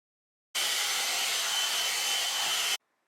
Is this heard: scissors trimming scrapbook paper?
no